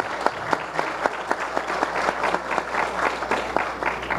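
An audience at an agriculture forum applauds a speaker, steady close clapping from many hands filling the room at an even pace throughout.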